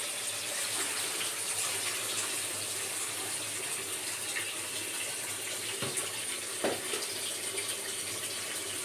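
Kitchen tap running while dishes are washed, a steady broadband rush of water lasting throughout at moderate distance, with a few faint clinks and splashes mixed in.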